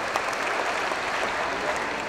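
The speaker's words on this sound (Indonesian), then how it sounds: "Boleh tepuk tangan dulu ya biar" Steady, dense applause from a large seated audience at a Ramadan charity handover ceremony, an even wash of many hands clapping at once, sustained without breaks and fairly close.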